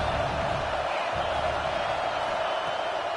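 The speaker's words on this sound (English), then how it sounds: "This crowd bringing the energy and noise early." Stadium crowd roar from a college football video game, College Football 26, a dense, steady wash of cheering noise that holds at a constant loud level throughout with no break.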